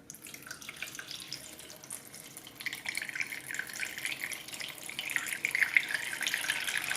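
Water pours steadily into the reservoir of a Keurig K15 coffee maker, about 10 ounces, the splashing stream brightening and growing louder as it fills, close by with no talking.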